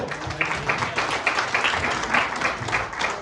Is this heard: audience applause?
yes